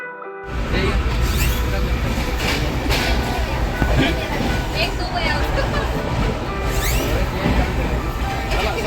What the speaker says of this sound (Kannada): ಸೊ ಫೈನಲ್ ನಮ್ಮ ಟ್ರೈನ್ ಬರ್ತೈತಿ